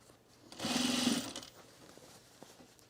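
Sewing machine stitching a seam on pleated fabric for a colour-block top, a brief close mechanical whir of about half a second over a quiet room.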